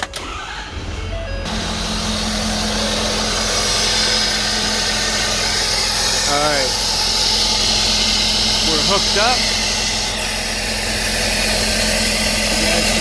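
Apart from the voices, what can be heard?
diesel truck engine running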